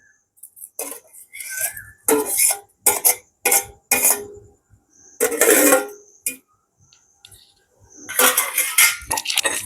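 Onion and curry leaves pounded for Jaffna-style sambal, a series of loud, separate thuds and knocks with short gaps between them, close up, with someone speaking now and then.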